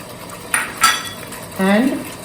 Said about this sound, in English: And go on sauteing.